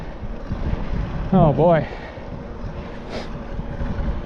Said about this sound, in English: That wind is just cutting right through me.